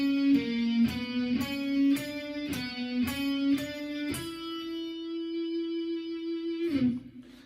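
Intro riff played slowly on electric guitar: a steady run of evenly spaced picked notes, then one long held note that rings out before a final pluck, close and clear with no talk.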